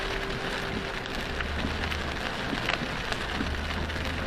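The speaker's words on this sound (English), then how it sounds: "Boy, do we need rain." Rain falls steadily on surfaces around a car on a drive, a dense even patter with faint low rumble underneath, unbroken and moderately loud.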